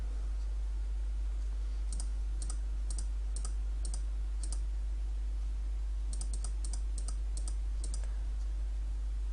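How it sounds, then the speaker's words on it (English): A password is typed on a computer keyboard in two short runs of crisp key clicks over a steady low hum, with a pause between the runs. "click this button right here and type your in-game password"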